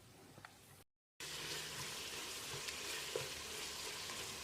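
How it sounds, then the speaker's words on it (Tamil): Red chili paste for Ambur mutton biryani fries in a pan with a steady close sizzle, broken by a brief moment of silence before the crackling hiss resumes and continues evenly. "1 நிமிஷம் நல்லா வதக்கி விடணும்"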